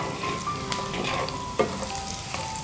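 Curry leaves, ginger and garlic crackle and sizzle in hot oil, a dense continuous frying hiss with a brief knock of a spoon midway, close and fairly loud, no speech.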